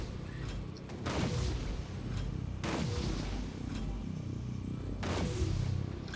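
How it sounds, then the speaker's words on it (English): Shots in Airborne DUST boom out at a railgun turret, three heavy blasts spaced a second or two apart, each trailing off into a rumble over constant battle noise. "Stop shooting the turret to take a shot at that guy, then go back to the turret."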